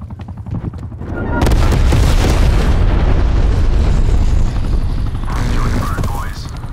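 Airstrike explosions in the video game Call of Duty: Cold War, a loud rumbling barrage of booms and blasts swelling up and rolling on for several seconds, with gunfire and game voices mixed in.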